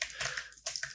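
Several quick keystrokes on a computer keyboard, soft and close, come in short bursts during a web development session, with no voices.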